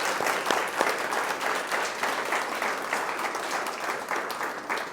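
A crowd claps steadily and loudly for several seconds, a dense continuous roar of applause with no voices on top.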